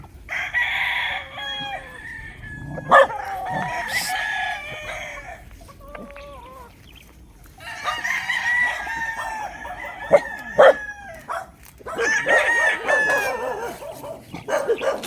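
Several fighting gamecocks crow in overlapping bursts in Tanauan City, Philippines, some near and loud, others farther off, with scattered clucking between calls.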